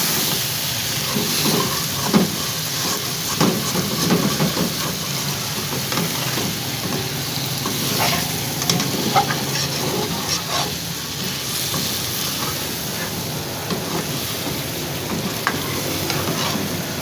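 Blended masala paste fries on high heat in a pan for chicken, giving a loud, steady sizzle and hiss with irregular stirring scrapes throughout and no voices.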